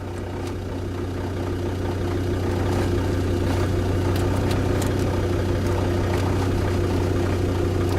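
A Land Rover with an oil leak and a clutch fault idles in neutral, a steady low rumbling hum that stays close and even throughout with no voices.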